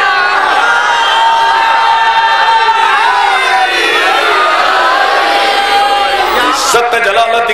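A large majlis audience during Muharram shouts religious slogans together, a loud, sustained mass of massed voices that swells and carries on for the whole stretch with no pause.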